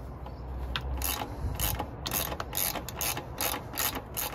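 A ratchet wrench loosens an 11 mm bolt on the engine of a BMW 335i with the N55 engine, giving a close series of rapid clicking bursts in a steady rhythm, with no talk.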